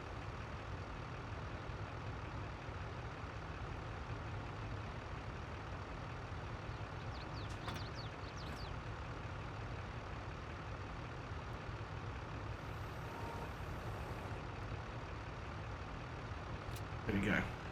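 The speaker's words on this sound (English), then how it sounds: "So that's just your basic tractor. Just it's a JCB." JCB tractor engine in Farming Simulator 22, a steady low drone that runs throughout at an even level with a few brief clicks over it.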